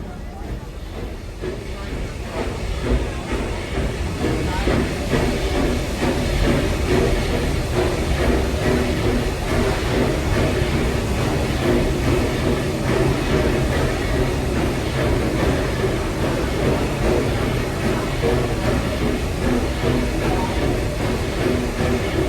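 Steady rumble and rattle of the Magic Kingdom railroad train rolling along the rails, a continuous loud clatter with a hiss, with some talk underneath.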